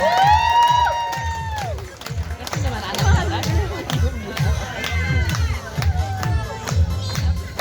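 A crowd of children cheering and shouting excitedly at a school children's competition performance, voices overlapping loudly throughout, with a steady beat thumping underneath.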